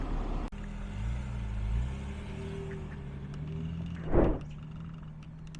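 Naturally aspirated V6 engine of a Mercedes-Benz E-Class coupe, a low steady rumble that swells briefly early on, with a short, sharper surge near the end. Nearby and moderately loud, with no talking.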